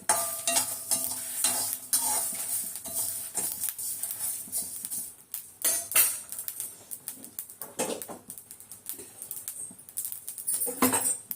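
Greens poriyal being stir-fried in a hot kadai, with continuous sizzling and repeated scraping and stirring strokes of a spoon against the pan, close and fairly loud, no talking.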